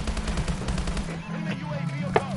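Gunfire in a PS4 video game, rapid bursts of shots rattling at a steady pace, with a voice talking over part of it.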